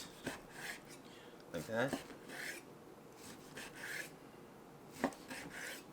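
A knife cuts a cooked, medium-rare steak into half-inch slices, producing repeated raspy rubbing strokes against a cutting board in short bursts, with a voice speaking briefly partway through.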